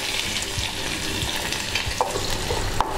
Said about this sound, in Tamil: எண்ணெய் காஞ்சதும் கடுகு, உளுந்தம்பருப்பு, வரமிளகாய் கிள்ளி போட்டு, வெங்காயத்தை போடுறோம்.